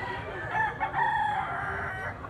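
A young black-legged stag rooster crows once, a short drawn-out call heard close by and alone, with no talk over it.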